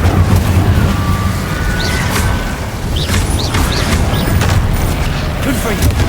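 Incendio fire spell cast in the Hogwarts Legacy video game: fiery whooshes and low booms flare repeatedly through a dense, continuous wash of combat effects, with a voice present.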